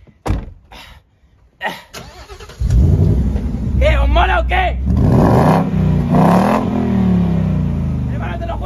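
A car engine starts and revs, holding a loud steady drone with rising pitch sweeps from about three seconds on, after some knocks and thumps; someone talks over it before and during the engine sound.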